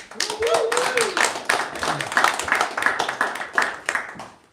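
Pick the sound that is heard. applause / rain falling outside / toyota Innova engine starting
applause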